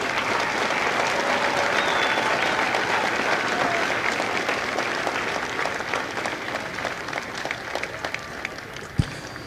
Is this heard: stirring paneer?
no